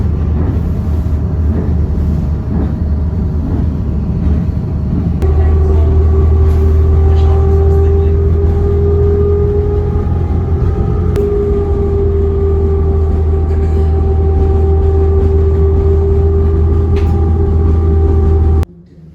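The Dolder Bahn rack railway in Zurich descends downhill with a heavy low rumble and steady whining motor tones, a continuous ride lasting nearly twenty seconds with faint background sounds.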